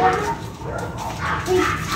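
A dog gives a short bark and yip somewhere near a house, brief and moderately loud, with light background noise and no clear talk.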